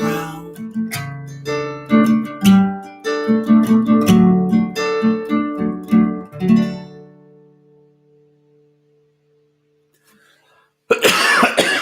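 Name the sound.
cough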